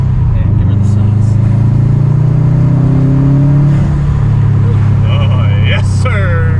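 A Stage 2 Subaru STI engine drones loud and steady as it revs and accelerates, its low tone rising and falling, with people talking over it and a sharp squeal near the end.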